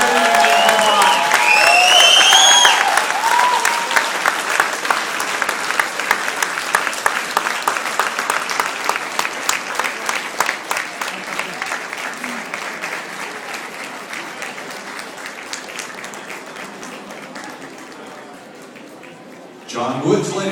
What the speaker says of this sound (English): Once again, a big round of applause for our very special